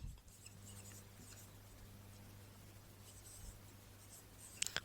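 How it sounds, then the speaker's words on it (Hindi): Handwriting during an English grammar lesson on tenses: a quiet, continuous scratch of pen on a writing surface under a low steady hum, with a couple of sharper taps near the end. "तो यहाँ लिख देता हूँ"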